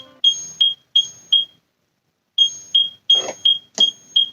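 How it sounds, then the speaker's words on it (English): A fire alarm beeps in rapid shrill chirps, pausing for about a second before resuming, loud and close with faint background noise. "Fire alarm"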